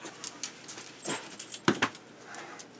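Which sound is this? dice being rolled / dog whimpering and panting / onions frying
dog whimpering and panting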